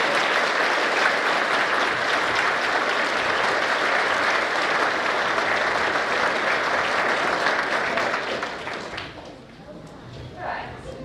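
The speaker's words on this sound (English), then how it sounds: "So can we just give them a clap?" An audience gives a sustained round of applause at a show, dense and loud for about eight seconds, then tapering off into a few scattered claps and faint murmurs.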